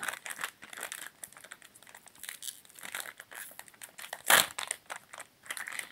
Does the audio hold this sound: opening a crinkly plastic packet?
yes